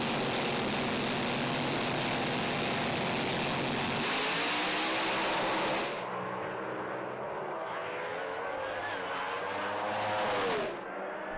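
Drag racing cars roar down the quarter mile at a 2015 ANDRA round in Perth, a loud continuous blast of accelerating engines that drops off sharply near the middle, then fades and rises again.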